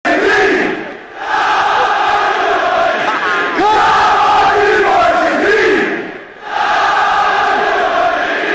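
Large football crowd in a stadium roaring and chanting, loud and sustained, with waves that swell and dip twice before surging back up.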